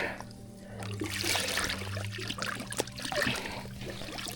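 A chum bucket being dunked in salt water on a patch reef fishing boat in the Florida Keys, with continuous close sloshing, trickling and pouring water and no talking.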